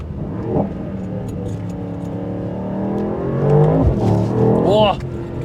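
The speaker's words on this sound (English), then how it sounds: "Let's put it into the Sport Plus and start listening to it here a little bit." A 2024 Mercedes-AMG GT63 Coupé engine in Sport Plus mode hums steadily close by, its pitch shifting and rising toward the end, while someone talks over it.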